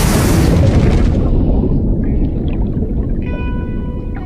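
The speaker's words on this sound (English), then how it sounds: "When you hear a wave coming at you, it's like a giant bomb going off." A large ocean wave crashes at a surf break, a loud, deep, booming roar that starts at full force and slowly fades, with faint higher sounds drifting in near the end.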